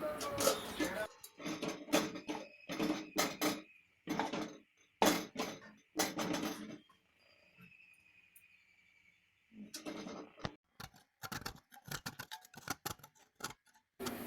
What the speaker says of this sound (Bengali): এইভাবে কিছুক্ষণ নাড়বো, নেড়ে একটা ডো তৈরি করে নেব